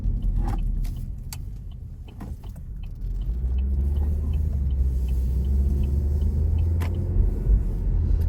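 A car drives along a road with a low, steady engine and tyre rumble that grows fuller after a few seconds, with small clicks and rattles from inside the cabin.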